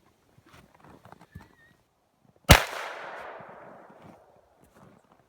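A single loud .45 ACP shot from a Chiappa X Caliber with a barrel insert, a sharp crack followed by a long outdoor echo, after some faint background movement.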